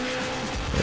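Car engines race in the video game Need for Speed Underground, a brief, steady mechanical whine with a hint of tire noise that swells at the very end.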